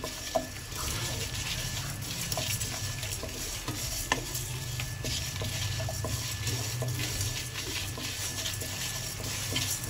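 Ingredients for a bitter gourd fry crackle in hot oil with a constant close sizzle and faint stirring scrapes, and no one speaks.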